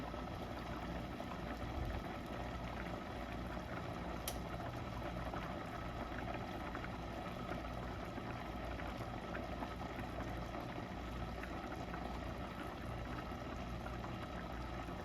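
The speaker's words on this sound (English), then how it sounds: "it's come to a pretty hard boil now" A pot of rice water boils at a steady rolling bubble, a soft continuous churning rumble with no breaks, fairly quiet and even throughout.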